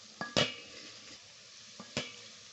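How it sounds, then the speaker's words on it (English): A utensil stirs curry powder and turmeric into a bean stew in a pot, giving two pairs of sharp scraping clinks over a faint background sizzle. "I'm going to add my spice, the curry powder and the turmeric. Give it a stir"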